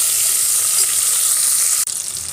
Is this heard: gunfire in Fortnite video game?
no